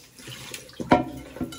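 Water from a container splashes as a person rinses off in hot, humid Mexican weather, with a few short irregular pours and splashes close by, the loudest near the middle.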